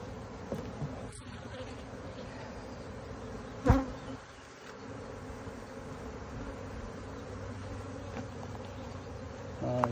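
Honeybees buzz steadily around an open hive during an April inspection, a dense continuous drone close by, broken by a couple of sharp knocks from frames or tools.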